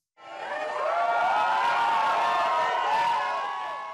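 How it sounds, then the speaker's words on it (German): A large crowd of Rolling Stones fans screams and cheers outside a hotel in Vienna, a dense, shrill, sustained wall of high-pitched voices that rises sharply and holds loud throughout. "Kreischalarm vorm Imperial."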